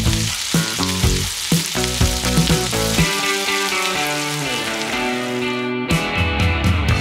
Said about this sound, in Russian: Сразу мешайте, чтобы у вас одна большая котлетка не получилась, чтобы он все-таки рассыпчатый был.